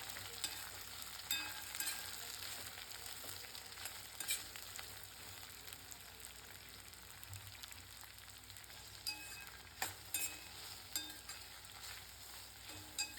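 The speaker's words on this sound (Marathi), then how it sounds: "2 ते 3 मिनिटं छान तेलात फ्राय होऊ द्यायचं आहे." Chopped okra fries in oil with cumin, a soft continuous sizzle heard close but at low level, with occasional stirring scrapes and light clicks from the pan and no talk.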